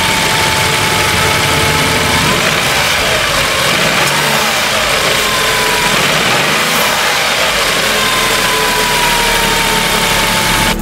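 A Tata Nexon's 1.2-litre turbocharged petrol engine runs steadily at idle with a constant hum and faint whine, close and loud throughout, with no talking.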